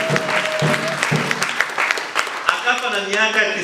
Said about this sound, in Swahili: Makofi kwa Mungu.